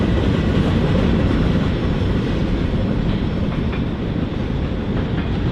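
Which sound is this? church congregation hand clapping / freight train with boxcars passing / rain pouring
freight train with boxcars passing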